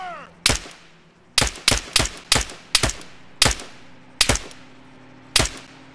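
Rifle and machine gun fire in the military shooter Arma 3: about ten sharp, loud, separate shots at irregular intervals, each with a short ringing tail over a low background hum.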